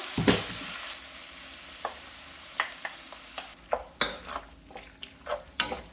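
Webfoot octopus pieces tossed into a pan with sesame oil and stirred, giving soft scraping, clinking utensil taps and a light sizzle, close and fairly quiet with no talking.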